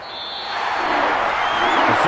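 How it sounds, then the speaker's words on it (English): A home crowd at a basketball game applauds and cheers, a broad, dense wash of clapping and crowd noise that swells up and stays loud throughout, with an arena reverberation and a faint whistle-like tone drifting above it. "the home crowd applauding"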